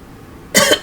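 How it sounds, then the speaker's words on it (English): A single person coughing twice close up, two sharp bursts after a quiet moment. "Excuse the cough."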